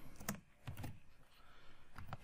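Soft keystrokes on a computer keyboard while code is typed, a few quiet clicks in small clusters at a close distance, with no talking.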